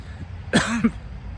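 A single short cough close to the microphone, with a brief throat-clearing tail, over faint background noise.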